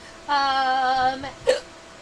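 A single sharp human hiccup follows a sustained buzzing, harmonic tone, the hiccup sounding short, close and abrupt before the clip falls quiet.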